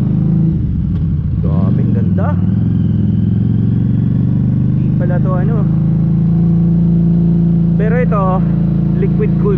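Harley-Davidson Street 500 motorcycle engine rumbling steadily while riding, a loud continuous low drone with wind buffeting, as someone talks over it.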